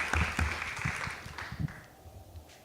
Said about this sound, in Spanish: Un aplauso, otra de nuestras invitadas.